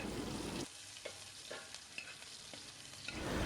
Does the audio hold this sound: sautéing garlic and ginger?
yes